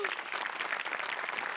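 A studio audience at a Marathi comedy show applauds a band, a dense, even burst of many clapping hands filling the whole moment.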